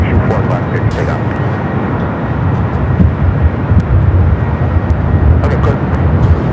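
A Southwest airliner takes off from runway 24 left at LAX, giving a loud, broad, steady jet roar with some faint radio voices mixed in.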